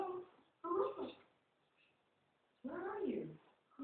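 A relaxed house cat meows twice, two clear close calls separated by a quiet pause.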